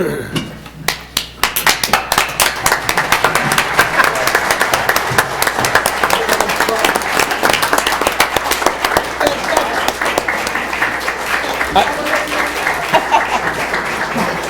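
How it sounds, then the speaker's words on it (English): An audience at a city council meeting breaks into sustained applause, dense crisp clapping starting after a brief pause and continuing steadily at close range for over ten seconds. "Give her a round of applause."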